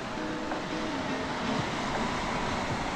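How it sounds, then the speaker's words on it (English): Ocean waves at Stony Bay in the British Virgin Islands surge and wash in a steady broadband roar, with light wind buffeting the microphone and no voices. "Lots of waves."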